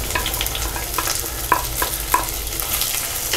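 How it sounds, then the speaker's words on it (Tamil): Onion, garlic, curry leaves and green chilli sizzle steadily in hot oil in a pan while a spoon stirs them with a few distinct scraping strokes, loud and close, with no talking. "இதை வந்து நல்லா வதக்கிக்கோங்க. நல்லா பொன்னிறமாக வர வரைக்கும் நம்ம வதக்கிக்கலாம்."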